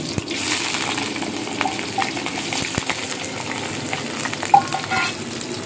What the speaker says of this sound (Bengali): এবার দিয়েছি ছোট ছোট করে কেটে রাখা আলু